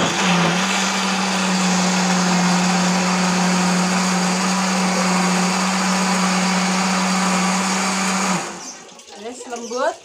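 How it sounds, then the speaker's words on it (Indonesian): Electric kitchen blender whirring steadily and loudly for about eight seconds while blending ingredients for spicy chicken-feet sambal, then cutting off abruptly. A voice speaks briefly afterward. "Wes iki engko di blender ya"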